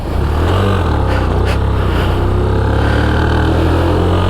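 A Suzuki GAG 50 two-stroke motorcycle engine drones loudly and continuously while riding, with a slightly uneven, sputtering tone close by.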